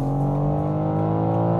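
A BMW M4 G82 straining under launch control, its engine holding a loud, steady, high-rev drone with layered harmonic tones and little change in pitch across the short stretch. No one speaks.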